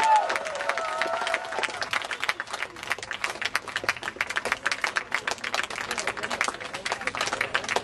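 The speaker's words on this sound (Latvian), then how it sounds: "Palīdzām ar aplausiem!" Audience applause with dense scattered clapping at an outdoor village games event featuring oak-plank contests, steady and moderately distant, with crowd noise and talk mixed in.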